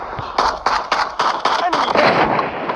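An automatic shotgun loaded with Dragon's Breath incendiary rounds fires in a video game, a rapid string of heavy booming blasts about every quarter second, loud and close, with no talk.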